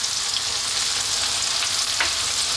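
Finely chopped red onion with salt fries in a pan over high heat, giving a steady, close hiss and sizzle with a faint stirring scrape and no voices.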